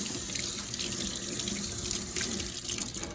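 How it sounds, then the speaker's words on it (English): Water runs steadily from a tap into a sink, a constant splashing rush as cabbage is rinsed under the cool stream, close and uninterrupted. "So I just rinse them on the cool water."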